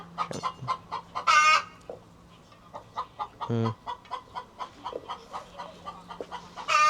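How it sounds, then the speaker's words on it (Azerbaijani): An old hen cackles and other chickens cluck in a backyard coop kept in a city, with rhythmic short clucks, one louder drawn-out cackling burst and brief pauses between calls. "yaşlı toyuq nə bilim qıqqıllayır yuxarı"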